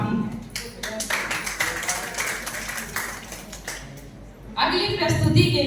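An audience at a Hindi Diwas literary gathering claps in a dense, continuous round of applause with many hands, rising in strength toward the end as people talk over it.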